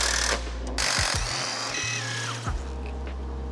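An impact wrench loosening a big bolt and nut on the firewall of a 1954 Glasspar G2, loud close bursts of hammering whir with short pauses and a spinning tail-off.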